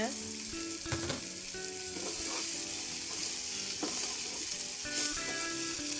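Spices and palm sugar sizzle in a hot pan while a spatula stirs and scrapes them, with intermittent clinks and scraping strokes over a continuous close frying hiss.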